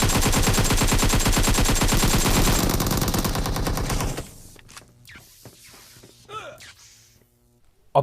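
Loud, rapid automatic gunfire in the battle-royale shooter PUBG Mobile rattles nonstop for about four seconds, then thins into scattered shots and softer in-game noises.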